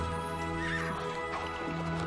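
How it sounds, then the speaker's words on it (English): A horse gives a long, drawn-out whinny, loud and close, wavering in pitch across the whole stretch. "Extended horse noise!"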